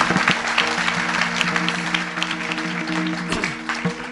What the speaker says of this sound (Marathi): या सगळ्या गुणीजनासाठी एकदा जोरदार टाळ्या होत्या